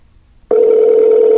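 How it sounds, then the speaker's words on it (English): A phone ringback tone starts abruptly after a brief quiet moment, a steady loud electronic tone heard through a pocket-sized Bluetooth speaker with no talking. "let's do a little test phone call."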